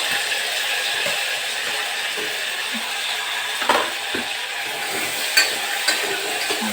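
Garlic and onion fry in hot oil, giving a constant bright sizzling hiss that stays even throughout, broken by a few soft stirring knocks; no voices.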